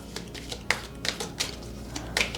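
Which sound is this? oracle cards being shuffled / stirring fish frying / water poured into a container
oracle cards being shuffled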